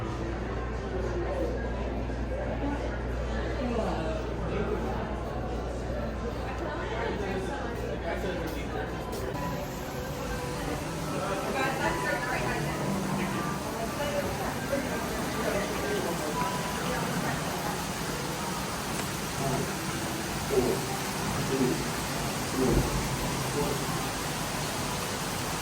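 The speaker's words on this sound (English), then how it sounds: "It really sounds like rain, don't it?" Simulated rain effect at a Rainforest Cafe restaurant: a steady, broadband hiss of falling water runs throughout, fairly loud and even, with faint background chatter and crowd noise mixed underneath.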